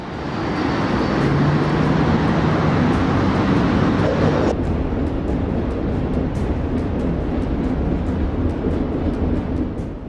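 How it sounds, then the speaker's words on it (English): A vintage Model T Ford-based rail motor, the rail car "4 ringgit", running on tracks at the Pleasant Point Museum and Railway in New Zealand, giving a steady, loud rumble of wheels and engine that drops slightly in brightness midway. "This is 4 ringgit, a Model T Ford-based rail motor, a vintage rail car running at the Pleasant Point Museum and Railway in New Zealand."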